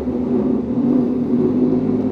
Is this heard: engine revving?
yes